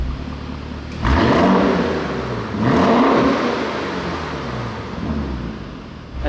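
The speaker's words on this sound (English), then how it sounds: "And you can instantly hear the exhaust sound change." A Lamborghini Urus engine revs up twice in quick succession in race mode, the exhaust roaring loudly then settling into a steady rumble between bursts.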